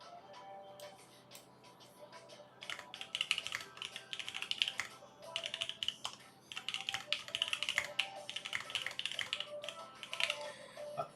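Steady, fairly close typing on an Elephant S7 mechanical keyboard with Creamy 67g switches and GMK Serika keycaps, a dense run of keystrokes clattering on after a quieter start.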